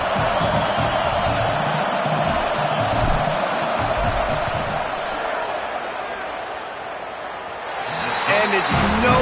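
A football stadium crowd roars throughout a field goal attempt, a dense, sustained wash of noise that swells toward the end, with a commentator talking over it.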